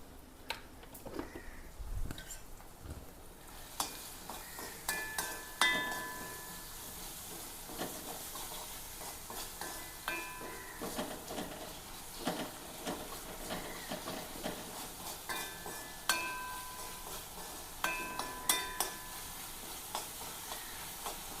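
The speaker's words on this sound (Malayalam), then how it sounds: "ഉള്ളിയും വെളുത്തുള്ളിയും പച്ചമുളകും വേപ്പലയും ഇട്ട് ഒന്ന് വാട്ടണയാണ്" Onion, garlic, green chili and curry leaves sautéing in a pan, a soft continuous sizzle broken by repeated scraping and stirring clatters throughout.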